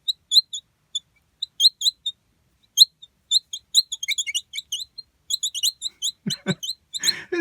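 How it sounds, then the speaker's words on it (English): Old, dried-out pliers are worked open and shut and squeak in a run of short, high, bird-like chirps, some single and some in quick clusters, with a little handling noise near the end. "It's like a little bird sound from my pliers because they're so dried out."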